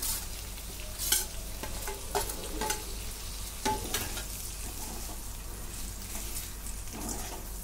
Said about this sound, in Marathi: आता हा राहिलेला मसाला सगळा मी याच्यात टाकून घेते